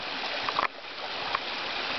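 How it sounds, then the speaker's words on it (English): Waterfall in a New Zealand temperate rainforest, a steady, soft rushing of falling water heard from a distance, continuous and even throughout with a couple of faint splashy accents. "Waterfall coming from over there."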